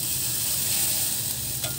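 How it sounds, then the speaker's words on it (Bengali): Vegetable chapati fries in a pan with a steady, close hiss of hot oil, even and continuous, with one brief crackle toward the end. "আরেকটা দেখাচ্ছি তোমাদেরকে ভেজে, দেখো কি সুন্দর"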